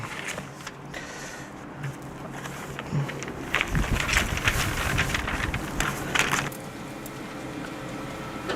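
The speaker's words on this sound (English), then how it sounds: "So windy today." Wind gusts outdoors beside a Pit Boss Navigator pellet grill while pork ribs cook, a broad rushing roar with microphone buffeting that swells mid-clip before settling back to a steady blow.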